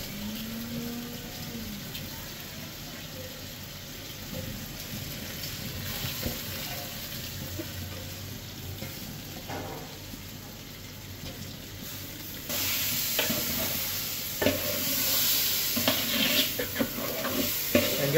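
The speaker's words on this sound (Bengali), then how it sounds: "এই চালটা ভাজা করে দিয়েছি বেশ" Rice frying in a pot, about three kilograms of grain being toasted for bhuna khichuri, giving a steady dry sizzle and rustle of stirring throughout, growing brighter and louder toward the end.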